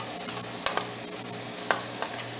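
Onions caramelizing in a pan give a steady close sizzle, punctuated by a few sharper scrapes and clatters from stirring, with no voices.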